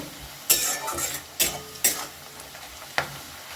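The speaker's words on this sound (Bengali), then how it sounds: "এটা দিয়েও খুব সুন্দর করে নেড়ে ভেজে নেব পেঁয়াজটা বেশ সময় নিয়ে ভেজে নিতে হবে" Sliced onions with a pinch of sugar fry in a pan for a meat curry, a soft sizzle broken by about five sharp spatula scrapes and clinks as they are stirred.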